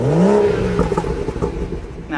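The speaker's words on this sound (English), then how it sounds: "So let's get a little rev time." A 2017 BMW 340i M Sport's inline-6 engine revs up briefly, its pitch rising and falling in a short, loud burst close by.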